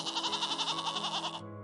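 A goat bleats in one steady, wavering cry that lasts over a second and then breaks off sharply. It sounds close and moderately loud, and nothing else plays under it.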